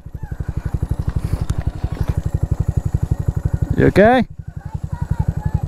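A Honda Monkey 125 motorcycle idles in deep woods with a steady, even single-cylinder putter that runs through the whole stretch, while people talk briefly nearby over it.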